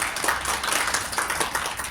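Students at a school ceremony applaud together, a dense steady patter of clapping from a crowd at moderate distance, continuous and even for the whole stretch with no talk.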